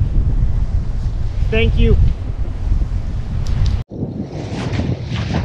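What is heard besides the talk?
strong wind and waves while sailing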